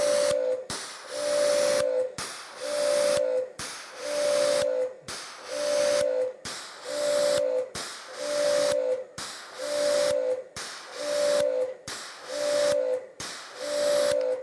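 Active 2.3 pressure washer spraying in repeated bursts, about ten short blasts of loud hissing spray with a whining pump tone, each cut by a brief pause as the trigger is released.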